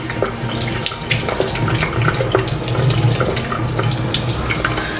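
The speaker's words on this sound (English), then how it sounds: "So try to wash the crab thoroughly, the back and the front as well." Tap water pouring steadily into a sink while a crab is scrubbed clean for curry, a loud, close, continuous gush with small splashes throughout.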